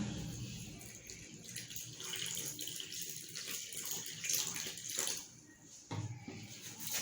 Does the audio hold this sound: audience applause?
no